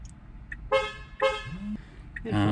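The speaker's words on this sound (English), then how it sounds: "Honk." Two short car horn honks from a crashed Porsche, then a third starting at the end, loud and close, with a brief engine or voice sound between them.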